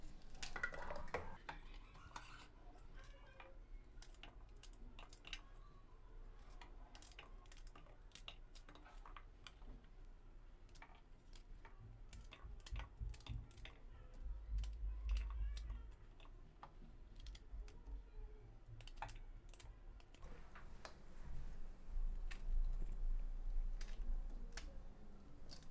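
Okra is sliced into rounds on a cutting board in a kitchen, giving soft, irregular knife taps and clicks, close but quiet, spaced unevenly over a long stretch with no speech.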